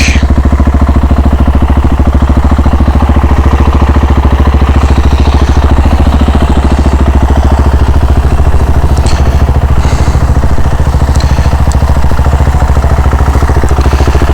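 A KTM 690 SMC-R single-cylinder motorcycle engine runs steadily at idle up close, a loud continuous low throb with mechanical clatter that stays even throughout.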